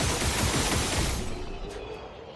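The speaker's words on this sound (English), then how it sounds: "Followed by just a lot of gunshots." Rapid gunfire bursts from the video game Clair Obscur crackle densely and loudly for over a second, then fade into a softer wash with a couple of faint high ticks near the end.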